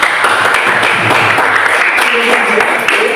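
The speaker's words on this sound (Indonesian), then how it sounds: "Oke, tepuk tangan dulu semuanya." A classroom group bursts into loud, continuous clapping, with a steady wash of hands and faint voices underneath throughout.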